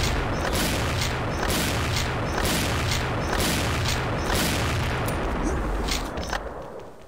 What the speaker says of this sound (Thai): พอหยิบบาร์มาเสียงว่าจะดังเนาะ